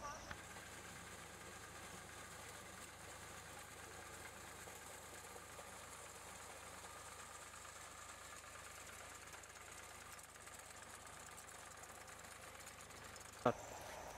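A tractor engine runs at a steady low idle alongside a reaper harvesting machine in a field in Madhya Pradesh, a faint continuous hum with one sharp knock near the end.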